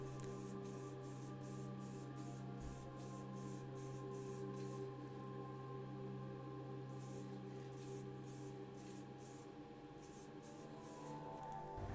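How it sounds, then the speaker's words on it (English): AK Interactive gloss varnish clear coat sprayed onto a restored Matchbox 67B Volkswagen 1600 TL diecast model, a faint, steady airbrush hiss broken into short repeated bursts. "everything gets a clear coat of AK Interactive Gloss Varnish"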